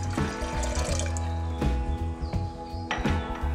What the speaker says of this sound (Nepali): एउटा कुकरमा राजमा राख्नुहोस् र एक दुई ग्लास पानी राख्नुहोस्।